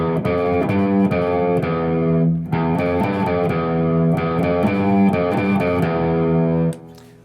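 A distorted electric guitar plays a run in the Phrygian mode, with notes picked in quick succession over a thick, buzzing overdriven tone. It is loud and close, with a short gap midway before the phrase resumes and stops.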